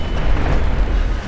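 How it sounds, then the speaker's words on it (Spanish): An explosion in Garry's Mod, heard as a loud, sustained, low rumbling roar with no clear onset, filling the whole short moment without any talking. "¡Te ha afectado la explosión!"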